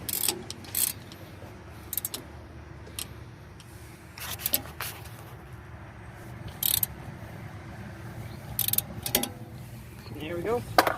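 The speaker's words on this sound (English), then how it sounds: "tighten down the bolt with the 13mm socket on your ratchet." A ratchet and 13mm socket tighten a brake caliper bolt on a 2007 Chrysler Town & Country: bursts of quick metallic clicks with pauses between, close by, under intermittent speech.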